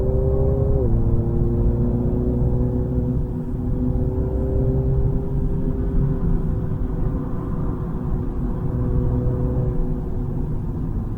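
A Mini Clubman lapping the Zolder race track, a steady loud in-car engine drone and road rumble holding a near-constant pitch, with a brief drop in revs early on.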